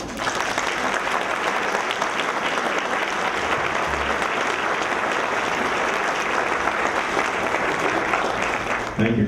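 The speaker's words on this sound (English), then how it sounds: "please join me in welcoming the very gracious Bob Simmons to the podium" Audience at a Bellingham City Club gathering breaks into sustained, loud applause welcoming a speaker to the podium, a dense steady clapping that fills the room for about nine seconds.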